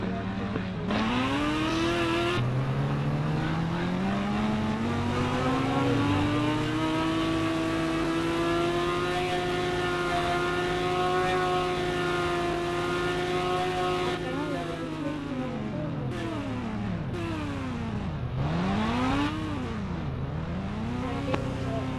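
A motorbike engine running steadily, its pitch rising and holding through a long ride before dipping and surging with a few throttle changes near the end; close and loud, with no talk over it.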